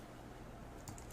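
Typing on a computer keyboard, a quick run of soft, close key clicks over a low background hum.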